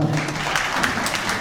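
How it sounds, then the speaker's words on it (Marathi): Loud, dense clapping from a crowd gathered at a public harikirtan religious gathering, filling the short moment without pause. "इथं जोरात एकदा टाळी वाजवा"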